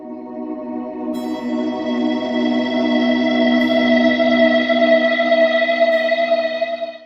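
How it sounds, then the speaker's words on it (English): Particle reverb on a Zoom MultiStomp MS-70CDR effects pedal turns a sustained tone into a dense, shimmering wash that swells steadily and rings on without decay for several seconds. "there is a reverb called the particle reverb"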